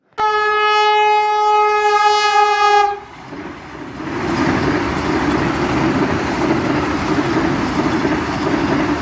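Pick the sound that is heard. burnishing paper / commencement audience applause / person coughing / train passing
train passing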